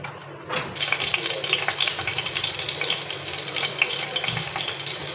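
Green chillies and cumin seeds hit hot oil for a chana dal tarka, a sudden sizzle bursting in after a brief quiet start and crackling steadily and fairly loud to the end.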